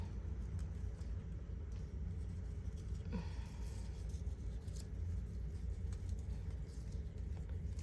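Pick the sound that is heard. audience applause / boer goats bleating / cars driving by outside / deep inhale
cars driving by outside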